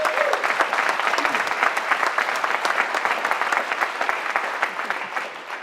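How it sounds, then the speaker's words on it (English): A crowd at a college organisation's tenth anniversary honoree event breaks into sustained applause, a thick, continuous patter of many hands that stays loud throughout before easing slightly at the end. "I think we deserve to give you all an applause for that."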